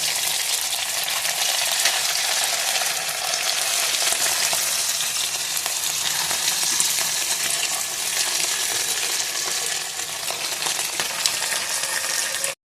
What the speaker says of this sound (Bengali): তেলটা গরম হোক, হয়ে গেলে যখন গরম হয়েছে, এইবার একটা একটা করে ছাড়বো